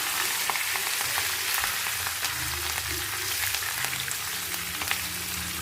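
Fish fries in hot oil with curry leaves added, giving a steady close sizzle with dense crackling and sharp pops throughout.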